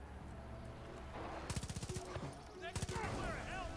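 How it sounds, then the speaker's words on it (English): Rapid automatic gunfire in the shooter game Far Cry 5, several quick rattling bursts close by over steady game ambience, with a voice talking briefly in the background. "Oh, they're firing at me."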